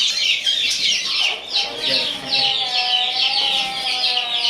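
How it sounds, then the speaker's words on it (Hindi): Two quails kept in a cage call repeatedly, sharp high chirps and clucks pulsing in quick rhythmic bursts, close and fairly loud, with faint talk in the background. "आपको पीछे केज के अंदर हमारे 2 बटेरे नजर आ रहे होंगे।"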